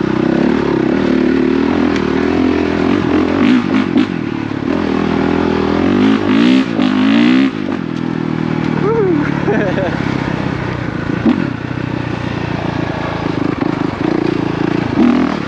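A Honda CRF450RX dirt bike rides nearby with a continuous loud engine drone, shifting pitch as it revs and accelerates, with a rider talking over it at times.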